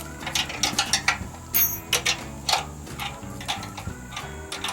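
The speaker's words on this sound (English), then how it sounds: "I'm going to take out the 7/16 bolts that I had to hand make" Bolts are worked out of a wheel assembly, producing a quick series of faint ratcheting clicks and metallic ticks at close range, with no talking.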